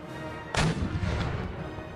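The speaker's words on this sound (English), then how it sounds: "More cannon fire." A single heavy cannon blast in the video game Empire Total War booms out abruptly and loud, its roar decaying over a second or so against steady battlefield ambience.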